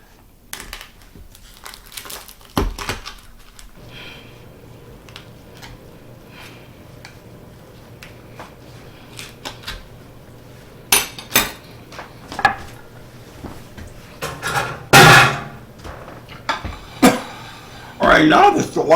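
Knife or shears cutting through lobster shells lengthwise in a kitchen, with sharp cracking and clattering bursts near the end, a few strong hits, over low room hum and quiet preparation noise.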